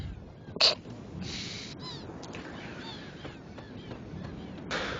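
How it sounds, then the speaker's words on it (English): Birds caw and squawk in the Chrono Cross video game, a few sharp calls over a soft, steady game ambience. "There are constantly birds just flying by this point, aren't there?"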